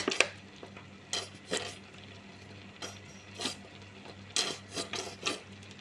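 Cheese is grated onto spaghetti, heard as a series of short, close scraping and rasping strokes at an irregular rhythm, with faint clinks against a dish and no talking.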